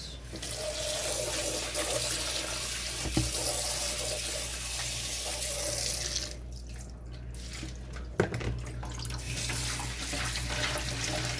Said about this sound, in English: Over running water. It is well rinsed now.